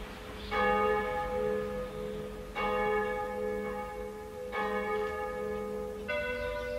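A church bell on the Lower Rhine in Germany rings four times, each strike clear and resonant, the tones decaying slowly with a pause between strikes.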